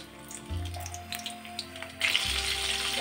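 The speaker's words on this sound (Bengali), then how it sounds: "লো ফ্লেমে টমেটোগুলো ভেজে নেব।" Battered tomatoes frying in hot oil over a low flame, a steady crackling sizzle with broadband hiss, growing louder and brighter toward the end, no voices.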